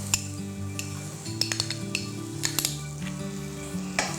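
Garlic, green chilli and chopped onion fry over high flame in butter and oil, a steady sizzle with spoon stirring and occasional metallic clinks against the pan.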